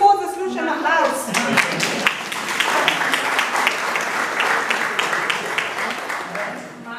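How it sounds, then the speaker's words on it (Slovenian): An audience claps in a loud burst of applause that starts strong and gradually thins out over several seconds, with a voice speaking at the start. "Mislim, da se gospod zasluša na aplavz."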